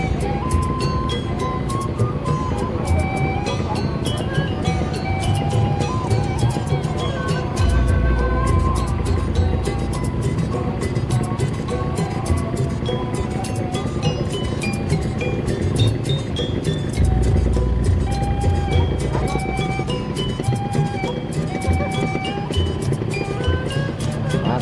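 A traffic jam on a narrow mountain village road in rural Sunda, West Java: a continuous close rumble of idling and creeping engines, with vehicles crawling past and some distant background voices.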